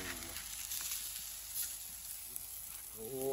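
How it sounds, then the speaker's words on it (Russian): Meat frying in a pan, a quiet continuous sizzle with faint crackles throughout and a slight rise in noise near the end, with no speech over it. "Жарим мясца."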